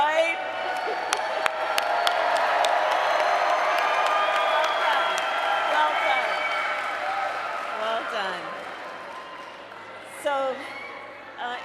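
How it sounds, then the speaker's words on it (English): A rally crowd at a presidential campaign event in Las Vegas, Nevada, applauds and cheers in a dense, sustained roar with whoops and sharp claps, easing slightly before a brief louder burst near the end. "Give them an applause,"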